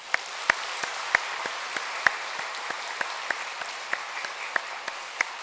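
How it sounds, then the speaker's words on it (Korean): A church congregation gives thanks to God with steady applause, a continuous wash of clapping punctuated by a few sharper, closer claps that recur at regular intervals. "하나님께 영광의 박수를 함께 올려드리겠습니다."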